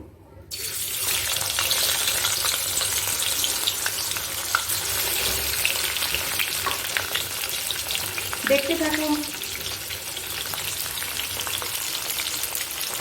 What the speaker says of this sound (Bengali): এবারে মাছের মুড়োগুলো ভেজে নেব